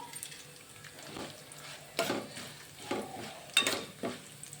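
Ingredients for a village-style pickle fry and get stirred in a pan, quiet sizzling with a few distinct scraping stirs spaced about a second apart.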